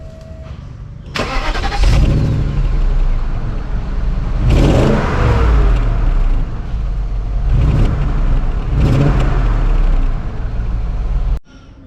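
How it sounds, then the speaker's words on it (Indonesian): A BMW X5 E53 with its 4.4-litre M62B44 V8 cranks over and starts, then runs close by with a steady idle broken by several revs before cutting off abruptly. "mesin dari BMW X5 ini. Ini adalah mesin M62B44"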